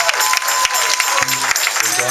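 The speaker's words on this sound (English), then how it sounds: "give God a hand clap of praise" A church congregation clapping hands in praise, brisk dense clapping over a brief stretch with a voice and some held tones under it.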